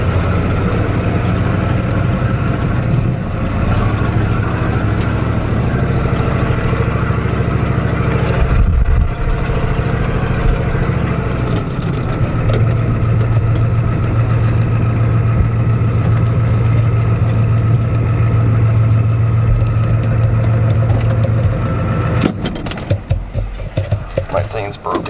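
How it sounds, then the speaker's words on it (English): A steady, loud engine drone hums throughout, with a low idling tone that shifts pitch midway and a brief rougher burst near the end. "Always a car coming, every time."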